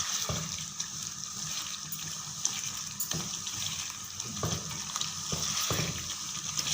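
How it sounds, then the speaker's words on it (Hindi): Hyderabadi chicken sizzles and crackles in ghee as it is fried and stirred in a pan, a steady close hiss with occasional scraping stirs and no talk. "चिकन ने थोड़ा सा घी छोड़ दिया है। अब हम इसको अच्छी तरह से भून लेंगे।"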